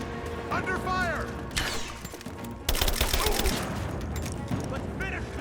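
Gunfire in an action-adventure video game, rapid volleys of shots and mechanical clatter mixed with shouting voices, dense and loud throughout with a heavier burst partway through.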